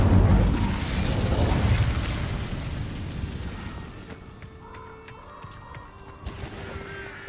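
A fire spell blast in a video game erupts in a loud, crashing boom at the start, then rolls into a sustained roar that slowly fades under lighter mechanical clatter.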